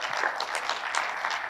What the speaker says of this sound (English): just a round of applause for him